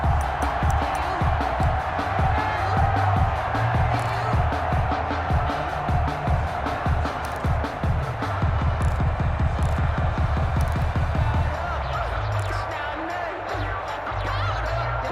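Stadium crowd roaring steadily in Madden NFL 21 American football game ahead of a big third down, a dense continuous swell with rhythmic thumping underneath, loud throughout and easing slightly near the end.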